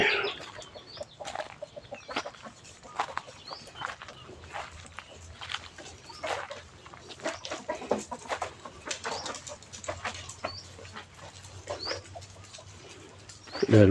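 Chickens clucking and chattering outdoors at a temple grounds in winter, a busy irregular stream of short calls at moderate distance, with occasional other bird sounds mixed in.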